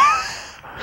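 A voice imitating an asthmatic wheezing breath: one short, close, whistling rasp of under a second that fades out.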